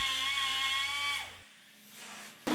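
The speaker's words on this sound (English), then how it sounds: "the die grinder cuts the slot for them" A high-pitched die grinder cutting a slot in metal on an Austin Mini runs steadily, then winds down and cuts off, followed by a brief quieter pause and a sudden burst at the end.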